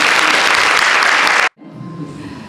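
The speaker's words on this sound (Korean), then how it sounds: "여러분 큰 박수로 환영해 주시기 바랍니다" Loud, dense applause from a concert audience welcoming traditional Korean musicians (vocal, daegeum, haegeum, janggu), a full wash of clapping that cuts off abruptly midway, leaving a quiet room.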